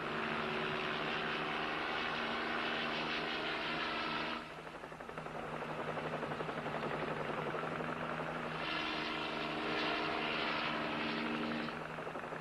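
A helicopter flies over mountains, its rotor drone loud and steady throughout, dipping slightly midway before rising again, with no talk over it.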